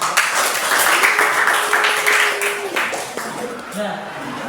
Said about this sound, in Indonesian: sebelum itu kita tepuk tangan dulu semua untuk kita sama